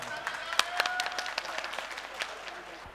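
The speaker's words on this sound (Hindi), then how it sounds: "जोरदार तालियां बजा करके इस्तकबाल करें" Scattered audience clapping at a mushaira poetry gathering in Ludhiana, sparse sharp claps over a murmur of voices and room noise, fairly faint throughout.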